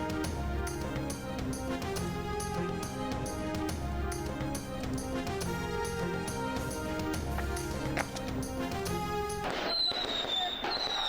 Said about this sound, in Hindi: लाहौर, इस्लामाबाद समेत मुल्क भर में जश्न, आतिशबाजी के शानदार मुजाहरे।